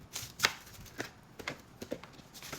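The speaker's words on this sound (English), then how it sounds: "let me go ahead and rough chop these" A knife rough-chops red onion on a cutting board in a quiet kitchen, a loose series of close, crisp thuds and snaps with uneven gaps between strokes.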